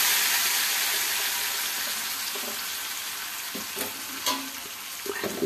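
Lentils go into a pan on a stove that has been switched off, with a fading sizzle and a few light scrapes and clinks near the end.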